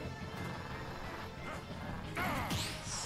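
A parry effect from Super Smash Bros. Ultimate cuts through match noise with a crisp metallic crash and a sweeping shimmer, short and loud near the end.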